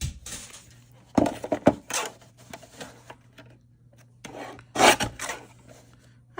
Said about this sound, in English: I'm gonna go ahead and put it up at the top, and then I'll just trim off those little edges